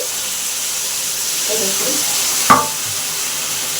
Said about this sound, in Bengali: এরপর মাংসটা আমি দিয়ে দিচ্ছি কড়াইয়ে দেখুন দিয়ে দিলাম আর তেল আছে লেগে মশলাগুলো লেগে আছে সেই জন্য আমি জল দিচ্ছি